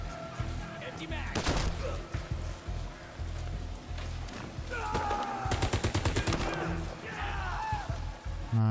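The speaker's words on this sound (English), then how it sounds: "Gun is so loud." Gunfire in the video game War Mongrels: a sharp burst early, then a rapid stuttering volley midway, with players talking throughout and game music underneath.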